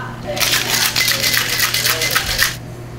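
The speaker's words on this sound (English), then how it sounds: "Add some ice." Ice cubes rattle and clatter into a raspberry lemon drop cocktail shaker or glass at a pub bar, a dense burst of clinking lasting a couple of seconds over a low steady hum.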